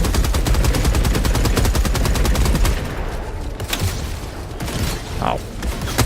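Heavy rapid-fire shooting in the Helldivers 2 video game hammers in a fast, loud burst for nearly three seconds, then drops to scattered thuds and quieter game noise.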